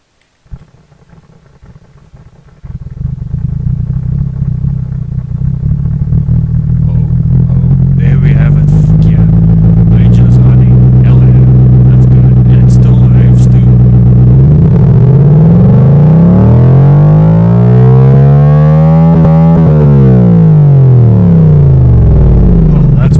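Simulated engine in engine simulator software, starting up and settling into a steady idle, a loud continuous low rumble with a wavering pitch that sweeps down and back up near the end, with a voice talking over it.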